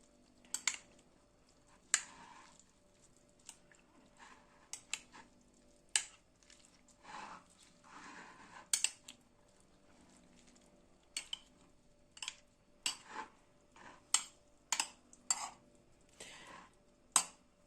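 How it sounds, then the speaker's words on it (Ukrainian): Hot peppers marinating in vinegar stirred in a jar, giving a series of short, light clinks and wet knocks at irregular intervals, close up and fairly faint, with no talking. "Можна ніби його так трошки-трошки перемішати."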